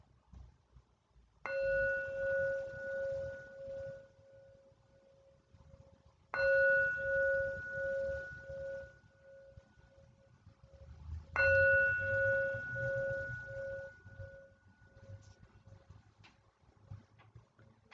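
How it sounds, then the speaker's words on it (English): A meditation bell chimes three times at slow, even intervals, each strike ringing out clear and pure before decaying into a long, gently pulsing hum. No voices. "So when the bell chimes"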